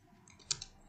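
A few keystrokes on a computer keyboard during Python coding, two quick light clicks close together, faint against a quiet background.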